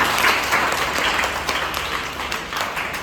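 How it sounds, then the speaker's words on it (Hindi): Students at a school awareness session on firefighting applaud a guest: a thick, continuous burst of group clapping for about three seconds, close and fairly loud. "उनके लिए तालियां बजाएं"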